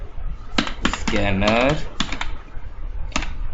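Keys clatter in short bursts as Java code is typed on a computer keyboard, a few separate clicks with a held voiced sound in the middle, fairly close and moderately loud.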